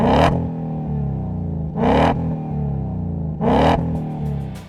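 A 2018-2020 Ford Mustang GT V8 revs three times through a MagnaFlow xMOD exhaust with X-pipe, each sharp rising blip settling back to a deep, steady idle rumble, loud and close with no voices.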